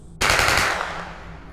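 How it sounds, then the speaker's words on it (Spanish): Gunfire sound effect in a horror story set on a military mission, a sudden loud burst of rapid shots that fades out in a long echoing tail. "No pasó mucho tiempo cuando escuchamos 3 disparos."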